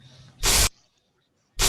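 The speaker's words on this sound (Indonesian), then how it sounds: "kita buatnya dari semprotan hand sanitizer yang saya punya" Two sharp bursts of spray from a hand sanitizer bottle, the first lasting about a quarter second and a shorter one cut off at the end, loud and close with silence between.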